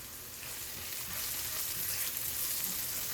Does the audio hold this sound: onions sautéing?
yes